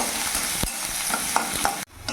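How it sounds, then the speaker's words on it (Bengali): Chopped onion and chilli are stirred and fried in hot oil in a pan, giving a close, steady sizzle broken by a few scraping spoon strokes before it cuts off abruptly. "পেঁয়াজ লঙ্কাটা একটু ভাজা ভাজা করে নেব"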